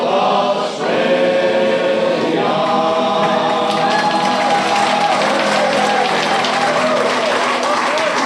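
A Portrush heritage evening audience applauds a group of singers as their sea shanty closes: the last sung notes fade into a dense, sustained wash of many hands clapping that carries on steadily to the end.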